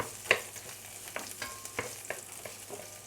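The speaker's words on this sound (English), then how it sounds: "I'm just quickly going to heat up my roast pork" Roast pork and char siu reheating in a pan for fried noodles make a quiet, steady sizzle, with a few soft clicks and scrapes of stirring spread across it. No one speaks.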